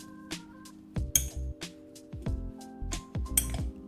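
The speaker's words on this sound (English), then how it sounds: "Transfer the sweet potato to a bowl and mash with a potato masher or" Sweet potato is mashed in a bowl with a masher or fork, making soft squishy thumps and clinks of metal against the dish in an irregular rhythm, close and moderately loud, with no talking.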